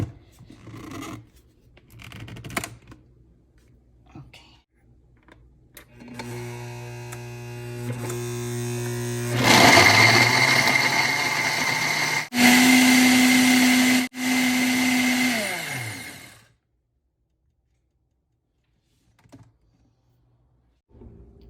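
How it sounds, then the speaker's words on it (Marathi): A kitchen mixer grinder blending bottle gourd peel chutney with a little water, starting with low whirring, then a loud high-pitched whine in bursts with brief stops, ending in sudden silence. "आपण आता हे मिक्सरला वाटून घेऊया"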